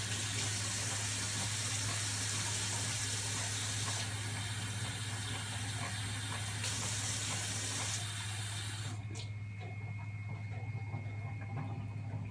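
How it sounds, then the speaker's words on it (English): A Keurig coffee machine dispenses hot water with a continuous close hiss and gurgle over a steady low hum, ending abruptly near the end and leaving a quieter electrical tone. "I'm using my Keurig just to get the process done faster of"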